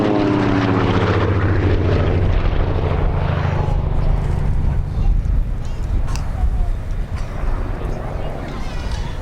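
Lockheed 12A Electra twin-propeller aircraft droning loudly and steadily, its engine hum fading somewhat over the clip while someone talks throughout.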